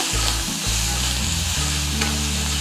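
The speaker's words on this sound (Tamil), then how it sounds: "ஸோ இதெல்லாமே சேர்த்து இப்படி வதக்கிக்கலாம்." Chilies, garlic cloves and tomato sautéing in a pan for a bitter-gourd (sundakkai) chutney, a steady close sizzle with soft stirring scrapes and no talk.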